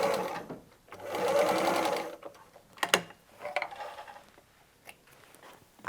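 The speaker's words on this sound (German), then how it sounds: "Das sichern wir mit Klammern und wir steppen beide Nähte einmal knappkantig ab." A sewing machine stitches close-edge seams on fabric for a bottle gift bag, with short bursts of rapid mechanical whirring broken by clicks and pauses.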